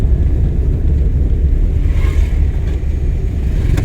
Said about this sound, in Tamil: செகண்ட் கியர் போட்டுருக்கோம்.